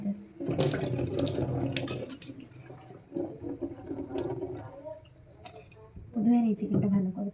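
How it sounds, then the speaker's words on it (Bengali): Raw chicken is washed under a running kitchen tap, with steady splashing water, drips and squelching of the meat close by. "তো ধুয়ে নিই চিকেনটা ভালো করে"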